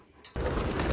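Racing pigeons leave their loft in a short burst of wing flutter and soft cooing that rises suddenly to a steady, close, busy level with no talk.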